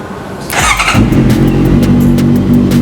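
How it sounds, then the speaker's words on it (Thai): A Honda CB650F motorcycle with a slip-on exhaust starts and settles into a steady, throaty idle, loud and close, with a deep rumbling exhaust note. "นี่ขนาดเสียงรอบเดินเบานะครับ ให้ท่อเรียววินสลิปออนนะครับผม"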